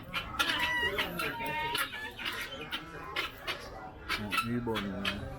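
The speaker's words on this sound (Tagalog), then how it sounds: "Mga manok." Chickens clucking busily at an animal farm resort, several birds close by in overlapping calls, with people talking over them.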